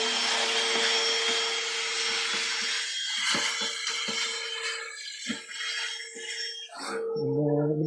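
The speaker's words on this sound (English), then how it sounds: "And then I'm going to vacuum this up right quick." A vacuum cleaner sucks up wood dust in a workshop after pen blanks are turned, a loud steady whine running throughout with bumps and knocks from the nozzle, then cutting off near the end.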